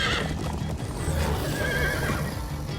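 Horse whinnying over steady hoof clip-clop in the video game Minecraft Story Mode, a loud continuous game soundscape with the neigh rising midway and no talking.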